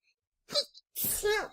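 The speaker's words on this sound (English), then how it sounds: "First 10 seconds into the podcast, and she's already sneezing." A single sharp sneeze from a young child, followed moments later by a second, longer sneezy burst, close up in an otherwise quiet room.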